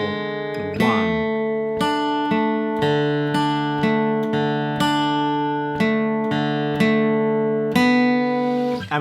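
Acoustic guitar crosspicks the melody of Banks of the Ohio, steady plucked notes ringing in a clear rhythmic pattern, close and alone with no talking.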